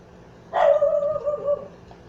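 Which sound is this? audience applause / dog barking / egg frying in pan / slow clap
dog barking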